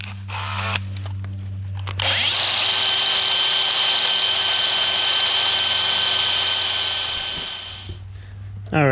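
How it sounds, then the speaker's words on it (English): A power drill whirs loudly and steadily for several seconds while drilling out the center bore of a Briggs V-twin starter washer, starting abruptly and winding down near the end, with a low hum before and after. "We're just gonna drill out the center bore now."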